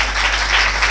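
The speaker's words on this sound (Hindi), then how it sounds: "हाँ तालियां बच्चों," Sustained audience applause at an Urdu fiction award ceremony, a dense, steady wash of many hands clapping that fills the hall evenly from start to finish with no voices over it.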